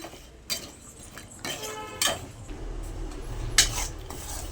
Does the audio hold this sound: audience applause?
no